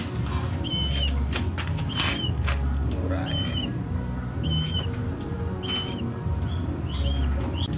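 White-rumped magpie robin chicks at a breeding aviary give five or six brief, repeated high chirps at roughly one-second intervals, close by, over steady low background noise.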